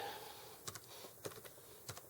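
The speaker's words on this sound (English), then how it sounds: "So again, typing with one hand, I apologize." Slow, sparse keystrokes on a computer keyboard typed with one hand, a few soft isolated clicks spaced apart over faint background hiss.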